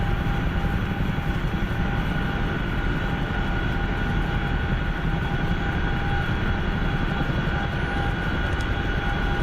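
A Chinook helicopter in a video game drones steadily and loudly throughout, a constant engine roar with sustained tonal whine and no audible voices.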